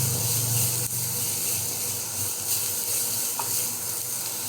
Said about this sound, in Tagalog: Gisa, halo-haloin.